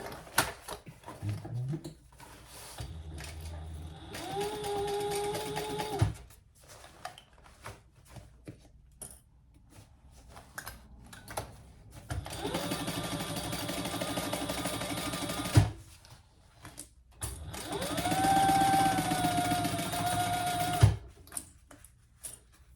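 A sewing machine stitches around a triple-zipper crossbody bag in three separate runs of rapid, steady mechanical chatter, with quiet pauses and some talk in between.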